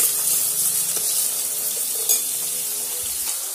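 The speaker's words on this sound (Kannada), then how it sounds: "ಈರುಳ್ಳಿ ಚೆನ್ನಾಗಿ ಹಸಿ ವಾಸನೆ ಹೋಗೋವರೆಗೂ ಫ್ರೈ ಮಾಡ್ಕೋಬೇಕು" Chopped onions fry in oil with mustard seeds for a green tomato and brinjal curry, giving a steady close hiss of sizzling with a few soft stirring knocks; no talking.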